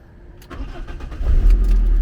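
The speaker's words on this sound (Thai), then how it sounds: "มีรีโมทนะฮะ เราก็ใช้การสตาร์ทอย่างนี้ได้เลยนะครับ" A car engine cranks and catches, started with a remote key, then settles into a loud, steady idle close by.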